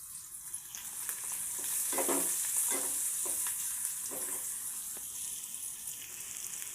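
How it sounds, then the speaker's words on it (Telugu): Oil with turmeric frying in a pan gives a soft, steady sizzle, with stirring scrapes coming and going and no talk. "ఇట్లా నూనె ఇలా మంచిగా ఫ్రై కావాలి పసుపు వేయాలి"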